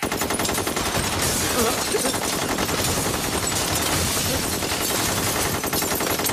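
Sustained, rapid automatic gunfire in a bank robbery scene at a Bank of America branch on Laurel Canyon, a loud, dense and continuous barrage of shots.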